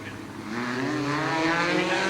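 Speedcars launch off the line at Charlton Raceway in Toowoomba, a loud sustained engine roar that builds and holds, with a commentator talking over it.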